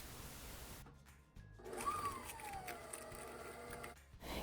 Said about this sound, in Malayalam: അതും കൂടെ ഒന്ന് ചേർത്ത് നമുക്കൊന്ന് ബീറ്റ് ചെയ്തെടുക്കാം